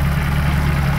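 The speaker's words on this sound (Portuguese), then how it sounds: "Motorzinho trabalhando redondo, forjado" A forged turbocharged VW Voyage engine making about 300 hp idles steadily up close, a smooth, even low rumble with no talk over it.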